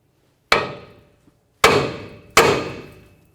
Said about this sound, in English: before we go ahead and bonk on the knuckle right here